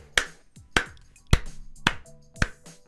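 One person claps for himself, six sharp, separate hand claps spaced about half a second apart, close and dry with quiet gaps between them.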